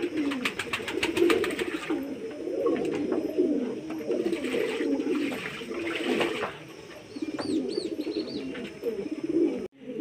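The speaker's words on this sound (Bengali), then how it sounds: "পায়রা এখনও বাইরে ঘুরছে, আর কিছু পায়রাই চান করছে।" Pigeons coo softly and continuously while bathing outdoors, with wings splashing and fluttering through the water. The cooing is layered and close, with no talk.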